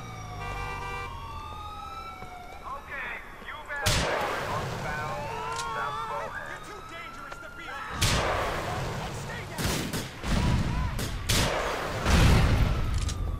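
Explosions and gunfire from the video game GTA IV, with a handful of loud, sharp blasts and bursts spaced through the clip over wailing police sirens and a steady background of city chaos.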